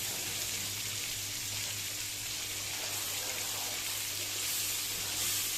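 Masala spices frying in a pan for an Irani kabab curry, a steady, even sizzle throughout, close and moderately loud with no talk.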